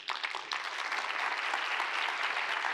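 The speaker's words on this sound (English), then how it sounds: "Another round of applause." An audience at a final presentations event applauds, dense clapping that starts with a few sharp claps and holds steady and fairly close for a few seconds.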